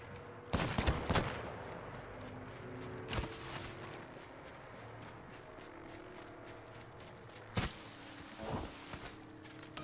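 Gunfire in Apex Legends, with short sharp bursts of shots early, a single crack near the middle and more bursts later, separated by quieter stretches with faint movement sounds.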